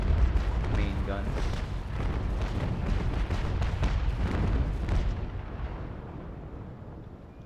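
HMS Victory's 32-pounder main guns fire in Naval Action, a dense rolling broadside of heavy booms that rumbles for several seconds and then fades, with a voice talking over it.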